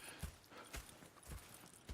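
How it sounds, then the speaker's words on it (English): Horse hooves clip-clop at an even walking pace in Red Dead Redemption 2, with about four soft, quiet strikes over two seconds. "Go check the horses are ready."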